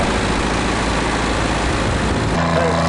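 A vintage Fiat tractor engine roars steadily and loud at a tractor pull, a dense low rumble that stays constant before shifting slightly near the end, with an announcer talking over it.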